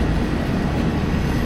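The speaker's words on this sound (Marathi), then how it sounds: "local train" A local train at Udhampur station rumbles past nearby, a loud, dense, continuous roar of wheels and carriages with no breaks.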